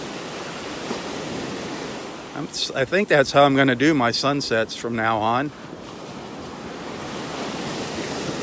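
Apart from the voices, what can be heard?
ocean waves rolling in on a beach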